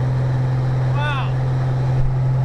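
A steady, droning 1952 Chevrolet engine hums loudly inside the moving car on a highway, with a brief rising whine partway through.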